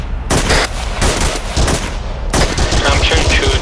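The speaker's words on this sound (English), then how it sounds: "There is enemy fire to the north." Close, loud automatic gunfire in the military shooter ARMA 3, dense bursts of rapid shots with short gaps between volleys, heavy and continuous, with a voice faintly under the shooting.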